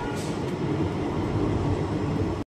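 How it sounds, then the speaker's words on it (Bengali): A small local train in Assam rolls slowly past a stretch of track under repair, giving a steady, close rumble with a hum that carries on unbroken before cutting off abruptly. "সেজন্যই ট্রেন স্লোভাবে যাচ্ছে"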